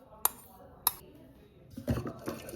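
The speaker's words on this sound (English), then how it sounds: "Toss and mix everything." Chickpea sundal tossed and mixed in a pan with shredded coconut and tempering: two sharp metallic clinks of a utensil against the pan, then a scraping, shuffling rustle of ingredients being stirred.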